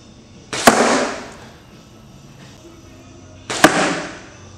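Two arrows, one with a broadhead and one with a field point, shot from a bow into a cardboard box: two sharp snapping releases a few seconds apart, each followed by a brief whooshing tail, with no talk.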